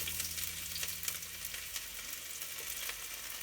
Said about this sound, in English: I'm going to put my onions in first